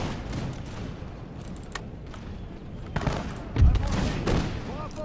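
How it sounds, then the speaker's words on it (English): Canister shot artillery and massed musket volleys in Empire: Total War with the Imperial Splendour mod, crackling in scattered bursts with one heavier boom partway through, over steady battlefield din. "Let's stop the canister shot."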